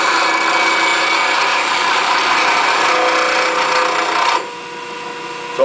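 A woodturning gouge is ground on a bench grinder set high, a steady loud grinding rasp that holds for about four seconds, then drops abruptly to a quieter spinning hum as the tool is lifted away.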